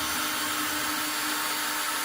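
A 5/16 drill bit bores a hole in wood while the wood is held in a dowel jig for a removable handrail. The drilling is a steady, broadband whine with no pauses, loud and close, with no voices.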